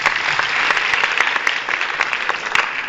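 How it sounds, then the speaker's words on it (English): A large group of first-year university students applauding in a hall, dense continuous clapping that holds at an even loudness throughout, with no talk over it. "Give yourselves a round of applause."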